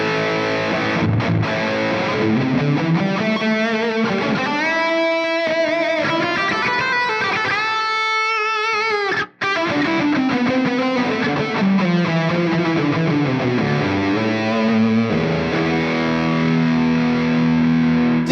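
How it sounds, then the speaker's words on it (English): Heavily distorted electric guitar played through a Bugera 6260 amp with a Boss SD-1 overdrive and the amp's built-in reverb, metal-style chords and single notes ringing on loudly and continuously with only a brief gap midway. "There is a built-in reverb on this amp."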